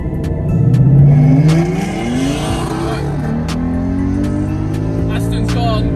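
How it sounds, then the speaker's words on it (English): A Ford Mustang accelerates hard in an airfield drag race, its engine climbing loudly through rising revs and gear changes beside other roaring cars. Speech is faintly mixed in. "as soon as we go past, we're going to absolutely floor it"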